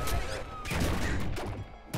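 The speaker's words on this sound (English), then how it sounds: "I think I hit myself with this plasmite cannon then" Plasmite cannon shots in the roguelike video game Nuclear Throne strike the player's own character, giving a run of loud, crackling electronic blasts and bursts packed close together over a busy game soundscape.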